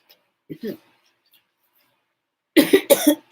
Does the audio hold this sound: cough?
yes